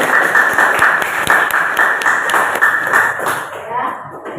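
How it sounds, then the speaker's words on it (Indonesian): A classroom group applauds a student group in a few seconds of steady, dense clapping close by, with a voice speaking over it before the clapping tapers off. "Tepuk tangan untuk kelompok 1."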